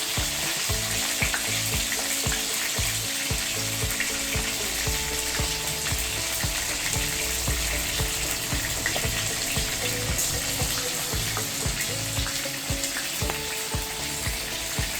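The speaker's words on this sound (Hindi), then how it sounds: "तो फड़फड़ फड़फड़ बोलेंगी, आप डरिएगा नहीं" Chillies fry in a pan over low gas, giving a continuous close sizzle with dense crackling pops throughout and no voices.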